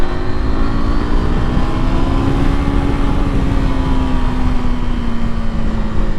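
A KTM motorcycle engine revs loudly and close, holding a steady, buzzing drone whose pitch rises slightly, then eases back.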